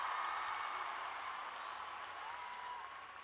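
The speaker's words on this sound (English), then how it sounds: "yeah, clap for yourselves, that's you" An audience at a large youth event claps and cheers for itself, a dense wash of applause that stays loud and then gradually thins toward the end.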